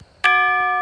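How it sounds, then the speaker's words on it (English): A Roblox doorbell chimes once, a sudden clean electronic tone that rings sustained and steady to the end after a brief quiet moment. "doorbell"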